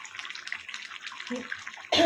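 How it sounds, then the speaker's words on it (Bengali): Hot water splashes into a small pot of Dak Bungalow chicken curry as it cooks, a loud, close pour arriving abruptly at the end after a steady low hiss from the stove. "এবার হালকা করে গরম জল দেবো একটুখানি"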